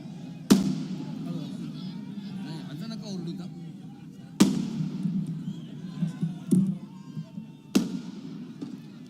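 Firecrackers burst outdoors during a political speech in Nashik, with three or four sharp, loud cracks spaced several seconds apart over a constant crowd murmur and amplified voices.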